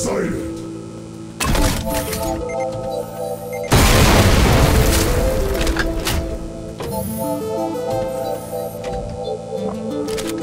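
Barrels shot and exploding in the video game Doom, modded with Project Brutality, a heavy boom that floods the mix over steady game music, with other thuds around it.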